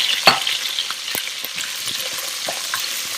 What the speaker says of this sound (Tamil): இப்போ வெண்டைக்காவையும் போட்டு நல்லா வதக்க போகிறோம்.